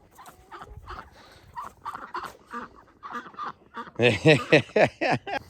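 Ducks quack and honk in a rapid, noisy flurry close by, growing louder and busier toward the end, with no talking.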